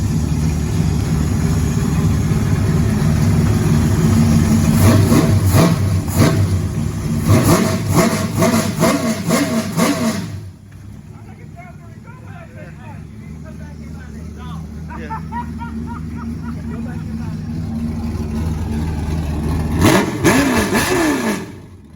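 Chevrolet Nova engine roaring to life and revving hard in repeated bursts, then dropping to a lower rumble before revving up again, loud and close, with voices talking over it.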